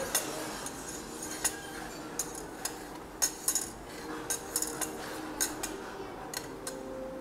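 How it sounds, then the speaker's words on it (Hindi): A spoon stirs a tablespoon of honey into a liquid in a bowl, making light, irregular clinks and taps against the sides over a quiet background. "बस ये आपने उतना ही घुमाना है कि इसके अंदर हनी मिक्स कर दें।"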